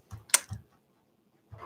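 A few sharp, clacky key presses on a mechanical keyboard in quick succession, then a pause before another keystroke; close and crisp.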